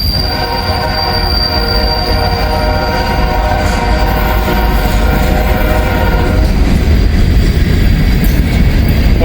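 A freight train's horn blares loud and close, one long sustained blast over the steady rumble and clatter of railcars rolling past, no voices.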